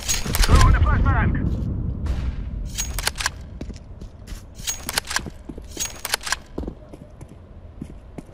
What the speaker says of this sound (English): I'm throwing a grenade! Throwing the flashbang!